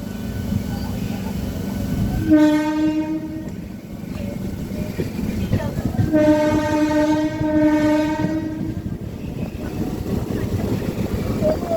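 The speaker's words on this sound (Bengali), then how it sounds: "আমাদের ট্রেনটি এবার ধীরে ধীরে কিন্তু টিটাগড়ে ঢুকছে" A local train slowly pulls into Titagarh station, its loud horn sounding in two long blasts over steady rumbling and rail clatter close by, with voices in the background.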